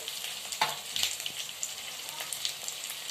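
Onion fries with curry leaves and three or four finely cut green chillies in a pan, giving a steady close sizzle with brief crackles and stirring scrapes throughout.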